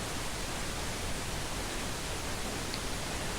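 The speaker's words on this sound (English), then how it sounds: "Pink noise. Beautiful." Steady pink noise test signal: a dense, even broadband hiss held at constant loudness for the whole stretch, with no voices or other sounds.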